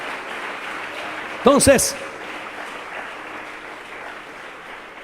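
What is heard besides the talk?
church congregation applause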